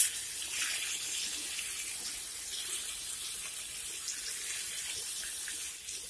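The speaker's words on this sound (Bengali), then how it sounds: "আমি একসঙ্গে হলুদ আর নুন দিয়ে তেলের মধ্যে দিয়ে মাছটি আমি ভেজে নেব" Fish coated with salt and turmeric fries in hot oil, giving a steady, bright, hissing sizzle that runs unbroken from start to finish at an even level.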